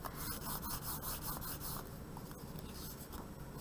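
Paper is rubbed by hand to transfer printed tone in an art demonstration, making a close, dry, rhythmic scratching of quick repeated strokes that softens slightly toward the end.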